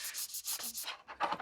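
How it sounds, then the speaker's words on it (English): Light rubbing by hand across the primed, painted surface of a Dredd Lawgiver prop pistol, without sandpaper, heard as quiet, close, rhythmic scuffing strokes, about eight short sweeps with brief gaps between them. "So I'm just going to give this a light rub."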